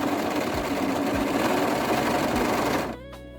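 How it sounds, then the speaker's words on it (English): A sewing machine runs steadily at speed, overlock or zigzag stitching the seam allowances of a teddy jacket, a loud close mechanical whir that carries on without a break and then stops abruptly near the end. "Finish the seam allowances of the shoulders, sides, and sleeves with an overlock or zigzag stitch to prevent fraying."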